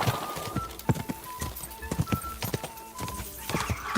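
A galloping horse's hoofbeats in the video game Kingdom Come Deliverance 2, rapid, loud thudding strikes in a driving rhythm, close by, with a faint whinny in the mix.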